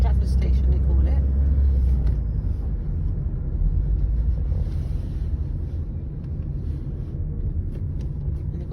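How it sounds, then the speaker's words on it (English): Busy street traffic with many buses near Stratford station and Stratford High Street in London, a continuous low engine rumble with wind buffeting the microphone, while people talk over it. "Yeah, they've got loads of buses there."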